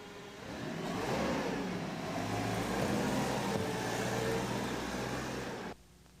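A forklift engine starts and runs at a steady mid-pitched drone for several seconds, then cuts off abruptly, with no talking over it.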